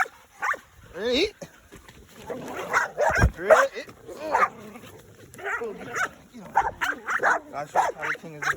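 Dog barking and yipping in a run of short, excited bursts, close and loud, with whimpery yelps in between while someone talks over it.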